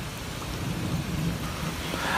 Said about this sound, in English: The intense weather system which struck on the island on the evening of May 18 brought torrential rain, gale force winds